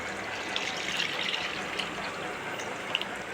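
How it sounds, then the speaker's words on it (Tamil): Dissolved tomato water poured into a rasam pan, a steady close trickle and splash of liquid with faint drips. "நம்ம தக்காளி கரைச்சி வச்சோம் இல்லையா அதை வந்து இதில் சேர்த்துக்கலாம்"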